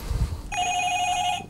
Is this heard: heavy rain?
no